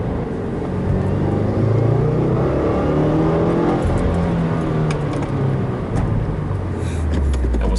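Car engine pulls under moderate, less than full throttle, a steady close rumble that builds slightly, with no talk over it.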